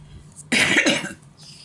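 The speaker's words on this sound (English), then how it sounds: "my allergies are acting up today, so pardon the occasional cough" A single sharp, loud cough bursts out close by, broadband and harsh, then trails off into quiet room noise.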